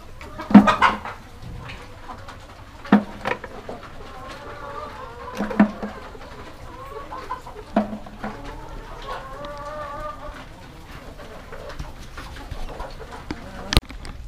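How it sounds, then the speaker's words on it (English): Chickens clucking nearby in short bursts on an organic farm in Mexico, with occasional sharper squawks over a quiet, rustling background. "Here with the chickens still"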